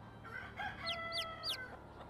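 Rooster crowing in the medieval farming game Medieval Dynasty, a short rising cock-a-doodle-doo with a few stacked notes, heard alone at moderate level.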